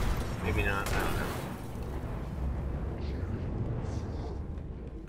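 The Sleeper Simulant weapon in the video game Destiny fires a heavy, crackling laser-like blast, followed by a sustained roaring rumble that fades slowly, with a few fainter bursts later on.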